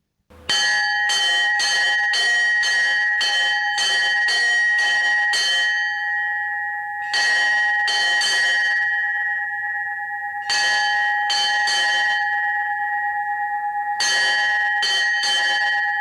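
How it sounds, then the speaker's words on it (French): A bell on a Rhine river boat rings in rapid runs of strokes with a long ringing tone between them, loud and close, separated by short pauses, with no voices. "le voyage débutait chaque matin par 3 fois 3 coups de cloche"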